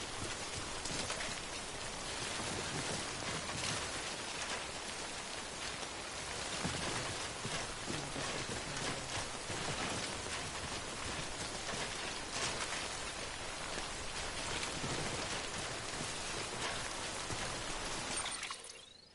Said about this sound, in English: The stupid rain again.